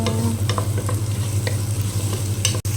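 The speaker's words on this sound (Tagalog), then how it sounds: "Ayan, mag-igisa na po tayo." Onion and garlic sauté in a hot pan with a dense, steady sizzle, broken by scattered clinks of a spatula stirring. The sound is close and loud.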